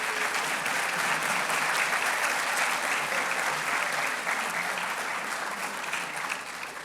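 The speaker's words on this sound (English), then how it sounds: "Let's give them a round of applause." A ceremony audience gives the standing faculty loud, sustained applause, a dense wash of clapping from a large crowd that holds steady throughout and tapers only slightly at the end.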